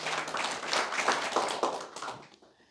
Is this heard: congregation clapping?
yes